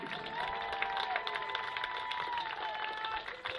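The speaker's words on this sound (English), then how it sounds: "a round of applause for all of your class of 2022 Lady" Applause and light cheering rise from the crowd at a high school soccer Senior Day honoring the class of 2022 Lady Badger seniors, a steady, moderately distant patter of many hands sustained throughout.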